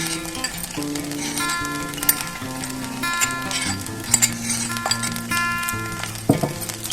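Pounded garlic and chili paste tipped into eggplant pieces cooking in a pan, with steady sizzling and frying, occasional clinks of a spoon against the pan, and music running underneath.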